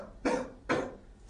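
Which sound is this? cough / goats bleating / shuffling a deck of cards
cough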